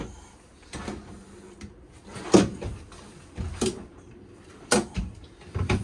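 Kitchen drawers and cabinet doors in a 2025 Forest River Geo Pro G20FK travel trailer thump and clack several times as they are opened and shut, close by, in irregular bursts.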